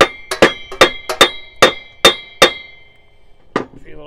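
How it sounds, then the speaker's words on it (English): A series of sharp metallic hammer taps on the bolt of a stuck taper lock pulley, about eight quick ringing strikes, then a pause and one final tap. "give it a tap with the hammer"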